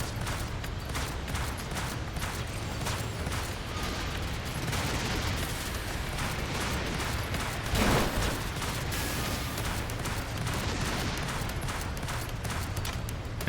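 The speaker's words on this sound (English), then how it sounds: "This anti-material rifle is awesome." Heavy anti-materiel rifle fire in a shooter game, a dense run of sharp cracks and thuds over constant battle noise, one louder blast standing out midway.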